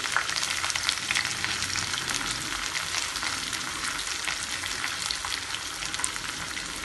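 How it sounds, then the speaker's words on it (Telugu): Sliced onion, green chilies and mint leaves frying in hot oil in a pan on the stove, a dense, even crackling sizzle that carries on steadily from start to finish. "ముందుగా స్టవ్ మీద పాన్ పెట్టుకుని ఆయిల్ వేసుకున్నానండి. దానిలో ఉల్లిపాయ, పచ్చిమిరపకాయలు, పుదీనా కూడా వేసేసుకుందాము."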